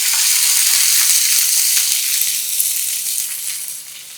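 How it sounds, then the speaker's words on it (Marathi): Onion hits a cumin and garlic tempering in hot oil and gives a loud, dense, hissing sizzle. It holds steady, then eases off slightly toward the end, close up with no voices. "यावर कांदा घालूया. कांदा परतून घ्यायचा."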